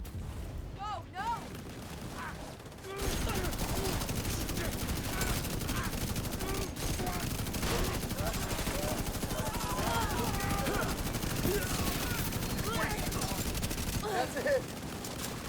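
In a shooter video game, dense automatic gunfire rattles in continuous loud bursts for over ten seconds, with booms mixed in, while someone talks briefly over it.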